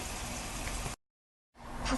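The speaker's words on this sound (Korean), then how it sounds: "소리가 비 오는 날 파전 부쳐 먹는 소리인데요" Garaetteok rice cakes fry in a shallow layer of oil in a pan, giving a steady close sizzling crackle that cuts out to silence for about half a second before resuming.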